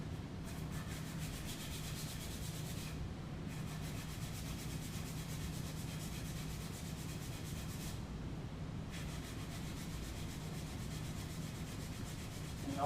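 A dowel wrapped in abrasive rubs back and forth along the flute of a wooden piece, giving a steady, soft, continuous scratchy hiss up close.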